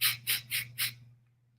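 Pet bird squawking four times in a steady rhythm, each short harsh burst mimicking quick nasal exhalations, close and clear over a low steady hum.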